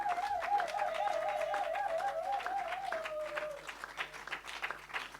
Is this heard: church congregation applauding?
yes